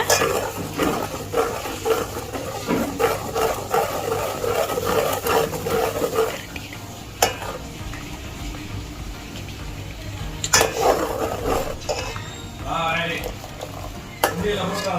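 Milk cream being stirred as it melts in a pan to make ghee, a soft bubbling simmer with scraping stirs and occasional utensil knocks, someone talking over it.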